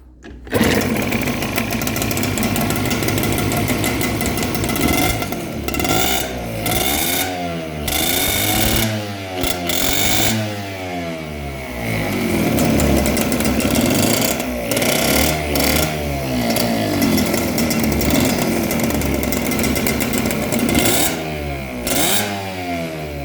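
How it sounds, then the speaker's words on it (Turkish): A twin-cylinder Mobylette moped engine running roughly on only one cylinder, idling loud and close with an uneven putter, repeatedly blipped up and back down over a long continuous stretch. "Niye motor şu anda teke bindi?"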